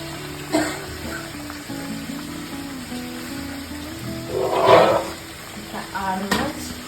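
Fish fries in oil in a pan alongside boiled potatoes, a soft bubbling sizzle broken by scraping and stirring clatters, with a louder burst of spattering near the middle and some faint background murmur.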